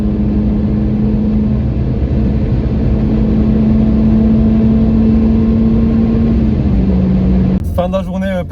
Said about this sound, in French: au revoir la petite NSX